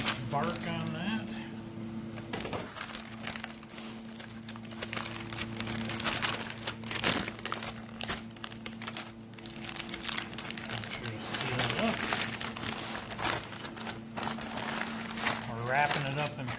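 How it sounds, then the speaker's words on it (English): Paper crinkles and rustles steadily as a smoked beef brisket is wrapped, with crisp crackles throughout and faint voices in the background. "We're wrapping it up in paper so it stays nice and juicy."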